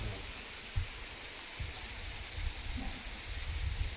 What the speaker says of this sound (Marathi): आम्ही आल्यामुळेच आलाय पाऊस.